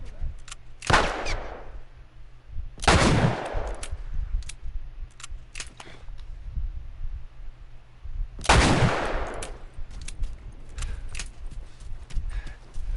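Gunfire in The Last of Us video game: three loud, sharp gun blasts spaced several seconds apart, each with a ringing tail, over a low ambient rumble and scattered small clicks.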